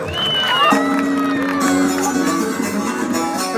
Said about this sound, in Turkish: değerli padişah arkadaş için de güçlü bir alkış gelsin abi